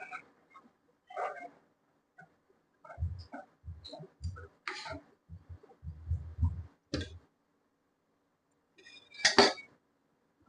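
A spoon stirs curry in a metal pot with scattered scraping strokes and sharp clinks against the rim, close and intermittent, with short pauses between bursts.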